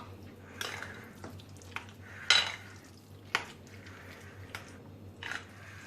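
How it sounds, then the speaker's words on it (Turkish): Roasted eggplant mixture being stirred with salt, a spoon knocking and scraping against a bowl in several separate clinks over a faint steady hum. "Ve hemen üzerine yine çok olmayacak şekilde şöyle biraz da tuz ve güzelce karıştırıyorum."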